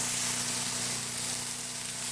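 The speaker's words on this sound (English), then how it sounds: "Sizzling." Venison and pork sausage links sizzling steadily in a frying pan, a soft continuous crackling hiss heard close up with no voices.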